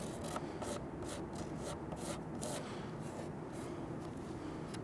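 Hardie snips nibbling fiber cement siding, a run of short, crisp rasping crunches in an uneven rhythm, close up and fairly quiet with no talk.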